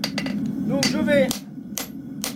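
A hammer drives a grooving tool into hot iron to cut a deep groove in an onion horseshoe, sharp metallic strikes spaced irregularly with a short voice in between.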